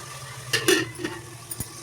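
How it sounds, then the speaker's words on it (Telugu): Tomatoes and onions being stirred in a frying pan, heard as a few close scrapes and knocks of a spoon against the pan over a steady low sizzle, with no talking. "ఇప్పుడు కలుపుకుందాం. కలిపి మూత పెట్టుకుంటే ఆనియన్స్ త్వరగా టమాటా త్వరగా వేగిపోతాయి"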